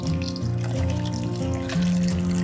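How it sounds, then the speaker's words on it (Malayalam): Water poured over ice cubes into an orange juice mixture, a continuous trickling splash with a steady tonal hum underneath, close and moderately loud. "ശേഷം ഇതിലേക്ക് കുറച്ച് വെള്ളം ഒഴിച്ചു കൊടുക്കാം."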